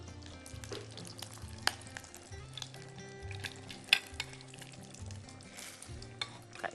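Pieces of fat sizzling and frying in a pot for a soup, a steady close crackle and hiss with occasional pops and light clinks of a utensil, no voices.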